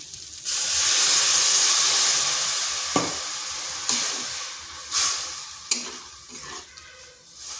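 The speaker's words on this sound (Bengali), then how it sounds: "এরপর এখানে সামান্য একটু জল দিচ্ছি" A splash of water hits a hot pan of frying okra and egg, bursting into a loud, close hiss of steam that gradually fades, followed by a few sharp scrapes and clinks of stirring.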